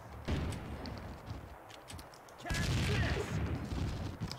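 A rapid volley of gunfire in the video game Max Payne 2 runs throughout as a grenade is shot, swelling louder midway through the short burst.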